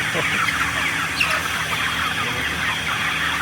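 Around nine thousand chickens packed densely into a poultry control shed keep up a constant, loud din of overlapping clucks with no pause.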